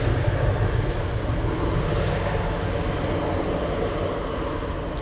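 A TUI Boeing 737 at Manchester Airport, heard as a continuous broad jet engine roar, steady and moderately loud with no pauses.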